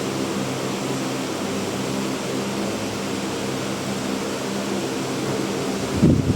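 An electric fan runs steadily in a classroom, giving a constant broadband whir with a low hum that holds at an even level throughout, ending in a brief soft knock.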